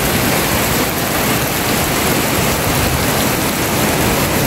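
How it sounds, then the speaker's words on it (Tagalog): Heavy, steady rain pours down with a constant dense roar, wind blending into the wash of noise, loud and continuous throughout. "Umuulan na. Mahangin po dyan, oh."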